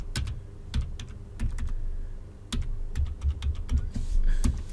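A narration being entered into Tally Prime accounting software on a computer keyboard: close, distinct key clicks in short irregular bursts with brief pauses between them.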